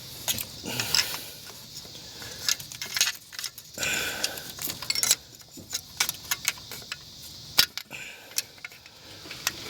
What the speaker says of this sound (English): Let's see if this wrench can help.